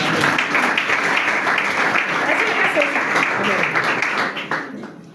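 A church congregation claps and cheers in praise of Jesus, with dense, sustained applause and voices that fill the room and then fade at the close.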